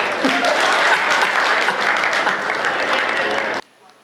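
An audience at a Hindi comic poetry gathering breaks into loud, sustained applause that holds steady for a few seconds and then cuts off abruptly.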